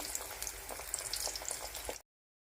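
Oil sizzles steadily around frying ackee and saltfish spring rolls, a dense crackling hiss with small pops, close by, then cutting off abruptly.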